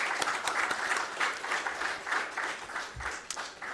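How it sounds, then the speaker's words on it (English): Audience applause at a project kick-off meeting, a steady, moderately distant round of many hands clapping that carries on evenly throughout. "Let's applaud for them."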